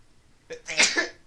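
A single sneeze, indoors during a casual conversation about Marvel movie release dates, with a short sharp inhale followed by a burst. It is close and fairly loud against a quiet background.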